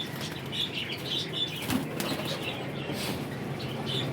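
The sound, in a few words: pigeons flapping wings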